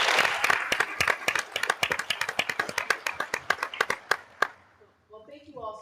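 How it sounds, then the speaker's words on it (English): A small audience at a B2B energy panel event claps for a speaker named Mike, with distinct individual hand claps in a quick, uneven patter that fades out after a few seconds, followed by faint voices. "Let's give Mike a round of applause."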